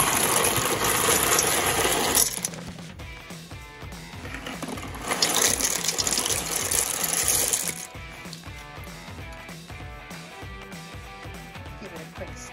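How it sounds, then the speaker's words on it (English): Two pounds of dry cut ziti poured into a pot of boiling salted water, a rushing rattle and bubbling that comes in two loud bursts, then a quieter simmer, with a voice speaking over it. "Once your water comes to a boil, add some salt. Next, add in 2 pounds of ziti,"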